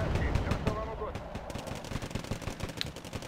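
Battle sounds from Wargame: Airland Battle, with dense machine-gun bursts and tank gunfire rattling continuously in a loud, chaotic mix, while someone talks over the combat.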